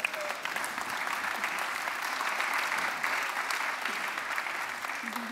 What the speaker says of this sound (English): It's very rare for business people and politicians to get spontaneous applause.